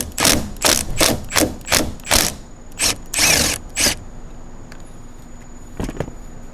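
A side mirror on a 2024 Tesla Cybertruck, being converted from stainless steel to matte black PPF, is wiggled loose and pulled out. About eight close, sharp plastic-and-metal clunks and rattles come in quick bursts, then a pause and one last soft knock.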